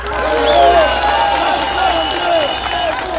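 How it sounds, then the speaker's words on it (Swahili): A crowd at a Dodoma election rally cheers and applauds for Bishop Mwamakura, a loud, steady swell of clapping and raised voices with rising cries throughout. "Baba askofu Mwamakura tuko na, mpigieni makofi"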